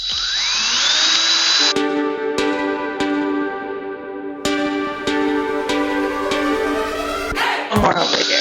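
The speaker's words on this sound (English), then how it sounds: "So first I'm going to drill 3 little holes in the top of this container so that there's ventilation" A power drill bores small ventilation holes in a plastic storage container lid, its high motor whine rising and falling close up, with several sharp knocks and taps on the lid, ending in another burst of drilling.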